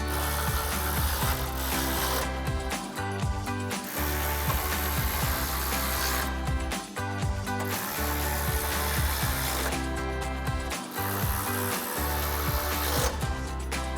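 A ratchet with a 10mm socket tightens the grille bolts on a 2007-2013 Chevrolet Silverado 1500, giving a steady run of close clicking and rasping strokes broken by three brief pauses as it moves to the next bolt.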